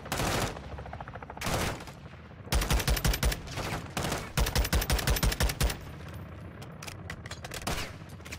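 Call of Duty: Modern Warfare II multiplayer gunfire: loud, sharp bursts of rapid automatic fire and single shots, with short pauses between volleys.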